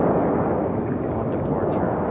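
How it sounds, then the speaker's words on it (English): A United Boeing 737 departs Raleigh Durham International Airport with a loud, steady broadband jet roar that fills the whole short stretch and does not let up. "There goes our United 737"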